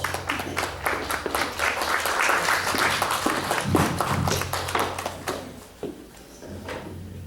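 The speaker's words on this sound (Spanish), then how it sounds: "Pido un voto de aplauso." Audience applause at an academic colloquium on Andean philosophy, a room full of dense, steady clapping that carries for several seconds before thinning out and fading.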